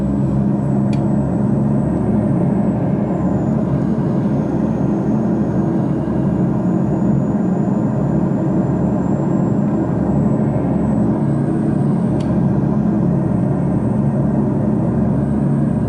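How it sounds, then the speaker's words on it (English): A continuous, loud, steady low engine roar fills the scene as an airplane lands in the Euro Truck Simulator 2 driving game, holding the same level throughout without speech. "You can see the airplane landing there."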